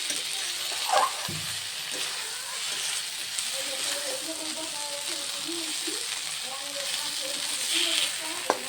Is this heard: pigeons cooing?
no